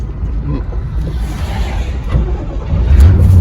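A 1979 Chevy Camaro with a 307 V8 and carburetor problems rumbles unevenly up close, a rough low engine note that swells louder toward the end.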